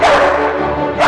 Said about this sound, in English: 6 bars of the symphony should be accompanied by baying hounds